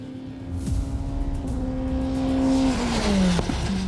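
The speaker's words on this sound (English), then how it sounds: "A Formula 3 weapon in the hands of a Formula 1 driver is nothing short of epic." A Formula 3 race car with a 240-horsepower Mercedes engine roars close by on a track, its engine pitch climbing and shifting through gears with a rising, high-revving whine.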